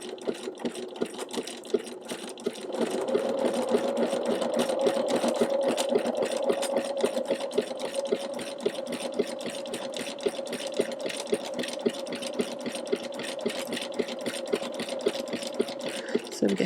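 A sewing machine running a satin stitch on fabric hums at a steady rapid rhythm, starting after a brief quiet pause and carrying on evenly at moderate volume.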